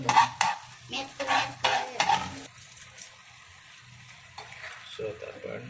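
Coriander being stirred into dried jawla in a pan, a run of close metallic scraping and clinking strokes over a light sizzle, then quieter with a few softer scrapes.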